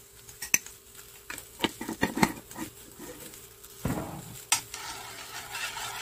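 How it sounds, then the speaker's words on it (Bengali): A spoon clinks and scrapes against a cup while mixing turmeric powder into milk, giving a series of irregular taps and brief swirling scrapes close by, with no talking. "এটাকে একটু মিশিয়ে দেব।"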